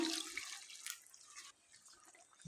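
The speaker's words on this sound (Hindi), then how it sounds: "अब इसमें हम डाल देंगे 1 प्याली पानी" A cup of water is poured into minced meat (keema) frying in oil, giving a short splashing, sizzling hiss that fades out after about a second and a half.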